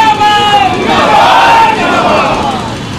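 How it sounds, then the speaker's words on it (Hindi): Loud crowd noise at a political rally in Dhanbad, a dense, continuous roar of clapping and voices filling the whole stretch, with a raised shout or cry rising near the middle. "हम तालियों की कंकड़ाहट के साथ सजुराव जी को आमंत्रित करते हैं"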